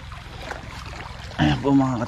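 Water rushes in a strong, steady stream from a deep well pump at a rural hut. The broadband gush runs throughout and grows louder and fuller partway through, with a tonal, humming layer joining it.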